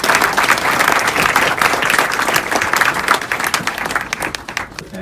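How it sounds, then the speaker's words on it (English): An audience at a speech in the House of Lords, British Parliament, London, applauds to welcome the speaker with loud, sustained, dense clapping that thins slightly toward the end. "Allow him a round of applause."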